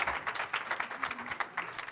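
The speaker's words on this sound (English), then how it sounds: "A round of applause for the Arts Commission." Applause from a small audience for the city arts commission at a Redmond council meeting, a moderate, fairly quiet patter of mixed claps with uneven bursts throughout, no voices over it.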